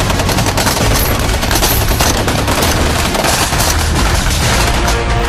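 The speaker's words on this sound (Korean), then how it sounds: "숲은 포연과 총성으로 뒤덮인다" Intense gunfire fills a forest during South Korean army KCTC combat training, with continuous rapid machine-gun bursts and overlapping shots forming a loud, dense barrage for the full stretch.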